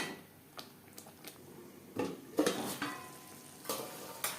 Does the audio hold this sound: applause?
no